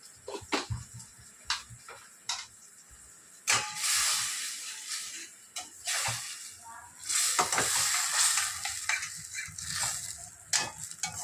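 Tomato rice masala with turmeric, chilli powder and dried red chillies is stirred in a pan, with intermittent bursts of sizzling and spatula scrapes and knocks between quieter pauses.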